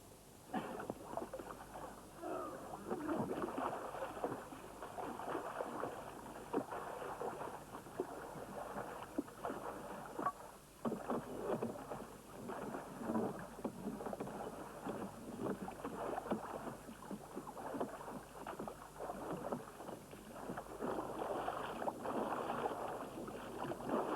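A rowboat glides across water, with steady sloshing and paddle strokes over a low wind rumble; no one speaks.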